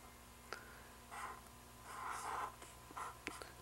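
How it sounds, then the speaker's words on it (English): Someone writing a multiplication problem by hand, short scratchy strokes in a few quiet bursts with pauses between, faint and close in a quiet room. "Let's write a problem down here."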